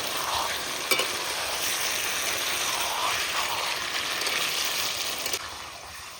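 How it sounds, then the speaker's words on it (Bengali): Chicken curry sautéing in a pan with fried potatoes added, a steady, close sizzle with stirring scrapes throughout and a couple of brief louder clinks. "কষার ভেতরে এখন ভাজা আলুগুলো দিয়ে দিই।"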